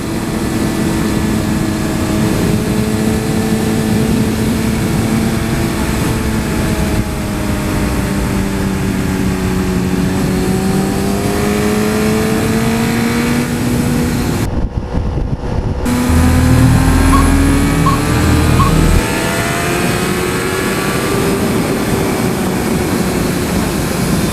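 A big motorcycle engine pulls steadily on an open road, its droning tone rising and falling through gear changes and wind rush, loud and continuous throughout.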